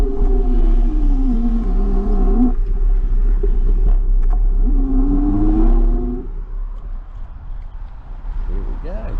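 Cars pass on a road beside an e-bike rider, a loud continuous rumble that swells and fades as vehicles go by, close and steady throughout.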